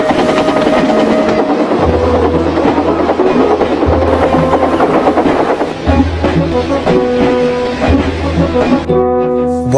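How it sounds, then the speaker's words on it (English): A steam locomotive passes a slow coal train near Barrow in Furness, its loud rhythmic rumble and puffing steady throughout, with low chuffing pulses and a dense wash of clanking rail noise, ending in a brief higher tonal sound. "While approaching Barrow in Furness, they puffed past a slow coal train, leaving towards Sodor."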